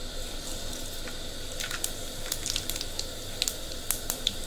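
Tempering spices sizzle in hot oil for chugudugai curry: a continuous bright hiss with a cluster of sharp spits and crackles in the second half.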